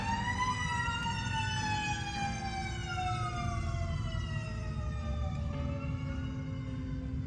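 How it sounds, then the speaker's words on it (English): Fire department sirens wail from a station just behind a house, their rising and falling tones sweeping steadily over a constant low outdoor rumble for several seconds, moderately distant and with no talking. "The fire department is right behind my house, so sometimes there's just random sirens."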